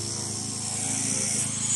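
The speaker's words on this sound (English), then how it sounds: "There's a generator running, so I have to talk pretty loud at the moment." A generator drones steadily in the background outdoors beside a bakkie, giving a continuous low hum with harmonic tones and a broad hiss, uninterrupted and without speech.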